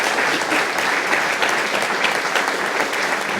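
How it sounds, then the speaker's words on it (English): An audience at a school excellence awards evening claps for the prize winners, a steady, dense wash of applause filling the room throughout, with no speech. "Once again, a round of applause for all of them."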